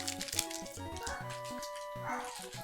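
A pet dog yips and whines in quick, uneven bursts close by indoors, the short high barks stacking into a rapid cluster before trailing off.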